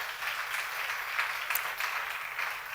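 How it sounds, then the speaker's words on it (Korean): A congregation applauding during a church seminar, steady dense clapping from many hands throughout, moderately loud and fairly even. "믿으시면 박수를 하세요"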